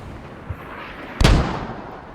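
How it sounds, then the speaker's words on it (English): Mortar rounds landing in the video game Squad, a soft distant thud followed by a louder, close booming impact that rumbles and fades over about a second. "Mortars landing all around it."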